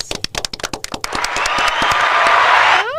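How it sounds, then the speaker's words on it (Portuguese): Audience applause: a few separate, sharp claps quickly swell into dense, sustained clapping from a crowd, which holds steady at close range before cutting off near the end. "Palmas."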